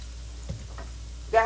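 Onions frying in a little oil in a pan, with a steady low sizzle, a few soft clinks and stirring sounds, and a brighter burst of crackle at the very end.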